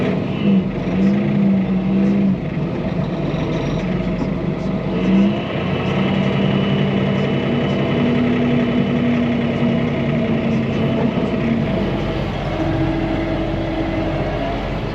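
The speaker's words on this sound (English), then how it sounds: "This little tractor, it has the power, it has the lift capacity to pick these bales up" A small tractor engine runs steadily nearby with a low chugging drone, its pitch rising and falling slightly as it works, loud and continuous throughout.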